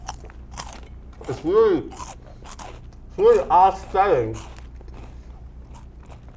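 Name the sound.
biting and chewing crunchy peanut butter and jam sandwich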